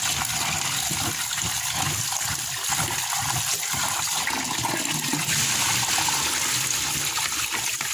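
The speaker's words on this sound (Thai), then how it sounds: "ล้างปลาหมึกนะคะเพื่อนๆ ล้างจนกว่าน้ำจะใสนะคะ" Running water gushes and splashes steadily while squid are washed by hand until the water runs clear, close and continuous, with no talking.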